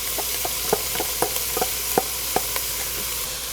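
Onions and diced ham frying in a pot for a New Year's Day dish give a steady soft sizzle, broken by a regular series of sharp scraping clicks as a spoon stirs against the pot, with no talking.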